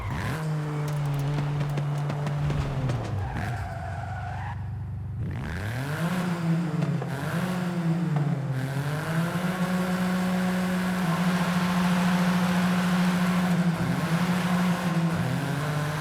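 A small three-cylinder Ford Fiesta ST engine in Forza Horizon 5 hums steadily, its pitch dipping and rising as it shifts through gears, with a brief lull before it climbs again.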